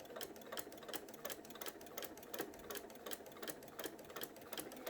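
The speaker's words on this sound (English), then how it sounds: "You sew as fast or as slow as you need to." A sewing machine stitches a rag quilt in steady, rapid runs of mechanical chatter, close and fairly loud, with rhythmic bursts repeating throughout and no talk.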